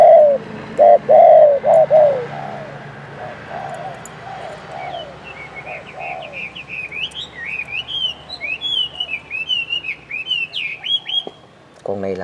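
A spotted dove from Phú Yên delivers a few loud, close coos in quick succession, then softer, higher chirps and twitters follow from other birds nearby.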